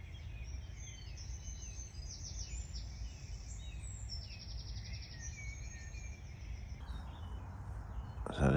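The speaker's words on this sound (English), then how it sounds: "Just listen to them birds, hopefully it'll pick it up. Lovely dawn chorus." Birds chirp and trill continuously at a distance over a steady low background rumble beside a gravel-pit fishing lake, several calls overlapping in a busy dawn chorus.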